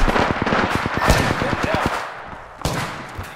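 Rapid bursts of enemy gunfire in the Apex Legends video game, loud repeated shots in quick rhythm for about two seconds, then a pause and a few more shots, with faint game voice under the firing.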